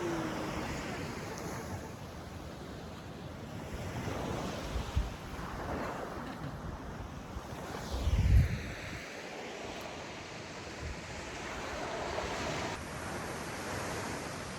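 Ocean surf washing onto the shore beside a backpacking campsite on the TCT, a steady broad roar with swells of louder breaking waves, mixed with gusting wind buffeting the microphone.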